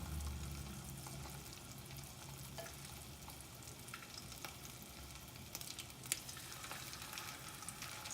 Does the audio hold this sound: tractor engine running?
no